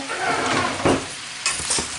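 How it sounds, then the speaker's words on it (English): Vegetables sizzle steadily in sesame oil in a hot pan, with a couple of brief stirring scrapes breaking through the constant frying hiss. "And then I have these veggies all stir frying."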